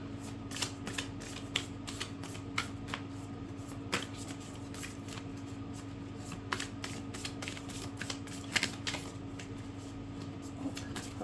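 Playing cards being shuffled by hand, soft repeated riffling and snapping clicks scattered irregularly over a quiet room with a faint steady hum.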